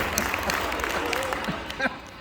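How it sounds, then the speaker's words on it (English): A game show audience claps steadily in a broad, dense wash of applause with some cheering, moderately loud throughout, while voices speak over it. "Make some noise for Brian."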